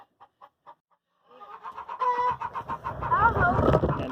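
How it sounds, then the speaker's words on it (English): Chickens on a farm, a few sharp clucks first, then a busy flock of hens and roosters clucking and squawking together, close and growing louder, with shuffling underneath. "we're going to get all of the roosters into this area, separated from the hens and the turkeys"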